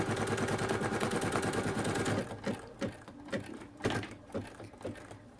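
An embroidery sewing machine stitches close and loud with a fast, continuous whirring rattle, then breaks into slower, separate thumping needle jumps spaced about half a second apart.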